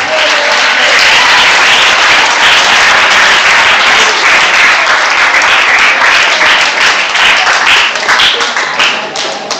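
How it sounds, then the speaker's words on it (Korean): A church congregation at a healing revival meeting in Sisophon, Cambodia, breaks into loud, sustained applause that fills the room for several seconds before easing off. "박수."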